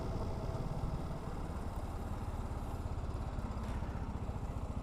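TVS Apache RR310 motorcycle engine idling steadily, a continuous low, rough rumble with a regular pulsing beat that stays close and fairly loud throughout, with no talk over it.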